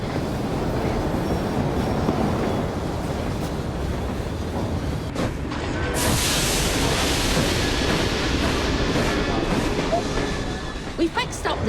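A train from the video game Assassin's Creed Syndicate rolls on with a loud, steady rumble and faint clattering throughout, brightening partway through.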